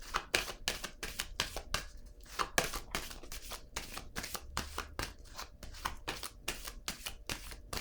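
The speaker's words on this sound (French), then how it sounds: "Je vais déposer une autre carte. Une carte du tarot psychique." Tarot cards are shuffled and laid down in quick, crisp riffles and flicks, a dense run of sharp papery snaps close to the microphone with no voices.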